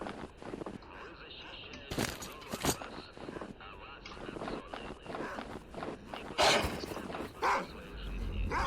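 Dogs bark in the S.T.A.L.K.E.R. Clear Sky video game (Cordon area, OGSM mod), mixed with in-game footsteps and other game noise; a few sharp bursts stand out in the middle of a busy background.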